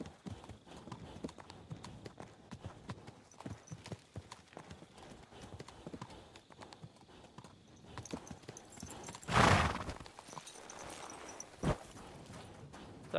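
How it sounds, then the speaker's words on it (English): A horse in the video game Kingdom Come: Deliverance 2 plods along with soft, steady hoofbeats, followed by a loud, breathy snort or whinny near the middle and another short snort later, fairly quiet overall. "Your horse sounds really tired."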